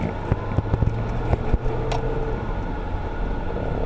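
A Hyundai Genesis G330 sedan, recently repaired after a burnt underdrive clutch in its automatic transmission, pulls away and shifts gears smoothly, a steady low engine hum from inside the cabin with a few light clicks and knocks, no talking.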